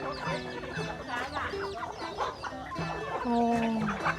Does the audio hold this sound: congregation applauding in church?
no